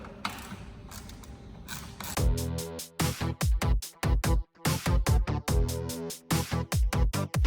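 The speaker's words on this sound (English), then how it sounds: "ratchet wrench, it's actually easier for you to work on it. See how fast it is." Ratchet wrench spinning bolts off a Jeep JL Wrangler during a third brake light install: a loud, close whirring buzz that breaks into rapid clicking bursts with brief pauses, no talking.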